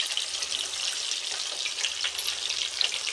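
Chicken pieces fry steadily in hot oil in a pan for chicken pakoda, a dense continuous sizzle with faint clicks of stirring, close and fairly loud with no voices.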